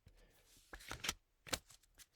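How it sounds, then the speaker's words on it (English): Several crisp riffling bursts of playing cards being shuffled, fairly close, each a short crackling flutter separated by brief pauses. "So 3 casual shuffles."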